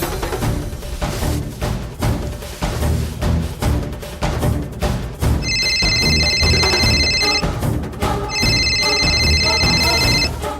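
A telephone rings in two long electronic bursts, loud and close, over a busy background of music and room sound on a Telugu TV drama.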